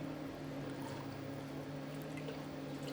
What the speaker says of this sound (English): We just pour that over the belly pork.